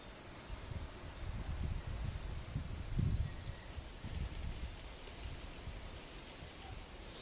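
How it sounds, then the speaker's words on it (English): Soft outdoor wind in the early morning, a faint continuous rustling wash with gentle gusts swelling and fading, distant and quiet with no voices. "Sound of the wind."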